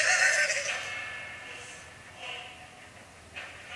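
A single horse whinnies loudly at the start, then fades into quieter breathy noise with a few faint later stirrings.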